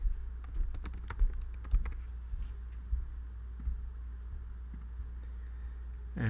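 Scattered keystrokes on a computer keyboard while entering a stack name in a cloud setup form, quiet and intermittent taps over a steady low hum, with no talking.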